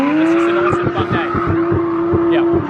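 Drift car sliding at a drifting training day in Japan, its engine holding a steady loud drone while tires squeal in repeated bursts, with voices mixed in.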